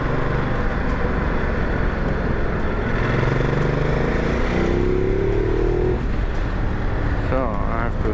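A Ducati Multistrada motorcycle with a freshly fitted, not yet settled chain and sprockets accelerates hard, its engine note rising steadily and loud throughout, with wind and road noise around it and no talking.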